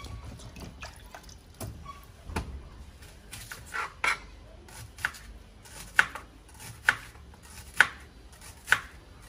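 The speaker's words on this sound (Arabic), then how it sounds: "دابا غتقطعي البصله وتديريها ان شاء الله" A knife chopping onion on a board, with a run of sharp, separate thuds. They start irregular, then settle into a slower, evenly spaced series of louder strikes, heard up close with no voices.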